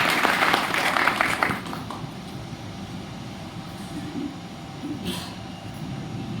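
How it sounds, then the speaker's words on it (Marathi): Audience applause at a school reunion of the 1997-98 SSC batch, a loud burst of clapping for about a second and a half that then drops away to a quieter room murmur. "म्हणून एकदा टाळ्या वाजवा."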